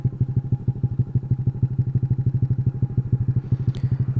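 A Daytona DY motorcycle with a 54mm carburetor chugs along while riding, its single-cylinder engine thumping in a fast, even pulse, loud and close throughout with no talking.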